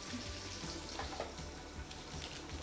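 Salmon fries skin-side down in a covered pan, giving a faint, steady sizzle with soft crackles and pops, with no talking.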